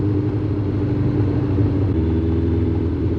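A Suzuki GSX 600 motorcycle engine runs steadily up close on a misty day, a low continuous rumble with a possible air leak, no voices over it.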